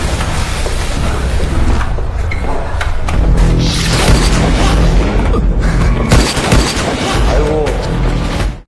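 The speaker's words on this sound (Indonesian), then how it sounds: "Sayangnya semua tembakan itu meleset, menghancurkan interior hotel, menghancurkan seluruh perabotan yang ada di lobi" A dense, loud barrage of booming impacts and crashing debris as gunfire tears through a hotel lobby, heavy blasts sustained throughout with clattering destruction of furniture and interior.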